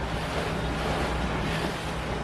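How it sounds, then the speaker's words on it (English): Ocean waves and surf churning against a rocky shore, a loud continuous wash of water with wind buffeting the microphone, close and unbroken with no voices. "Right here, look at all the waves."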